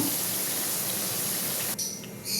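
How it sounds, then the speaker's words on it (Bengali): Potatoes frying in a pan in a home kitchen, a dense continuous sizzle that stays loud and even for nearly two seconds, then drops away sharply. "আলুটা একটু লাল করে ভেজে নেব।"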